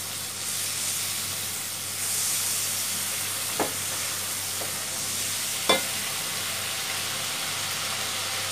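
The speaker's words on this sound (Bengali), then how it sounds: "মশলাটা আমাদের ভাজা ভাজা করতে হবে।" Spice paste with ground cumin frying in a pan for an okra and onion curry, a constant close hiss and sizzle with two sharp scraping knocks of a stirring spoon.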